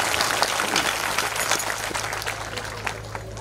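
An audience at a kirtan during a week-long Harinam Saptah gathering claps in a loud, dense, continuous burst of applause, steady throughout with no break.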